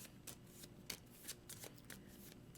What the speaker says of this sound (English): I get to shuffle.